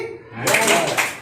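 A classroom of children clap their hands together in a short burst of dense applause that swells and then fades within about a second.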